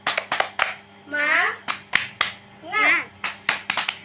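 Children in a classroom perform the tepuk semangat clapping chant, sharp rhythmic hand claps in quick groups alternating with children's voices chanting together, close and loud.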